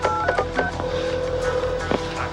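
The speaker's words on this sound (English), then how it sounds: "could you just get this Dantley guy on the phone for me?" Touch-tone beeps as a phone number is dialed, a quick series of short tones followed by a longer steady tone, with background noise.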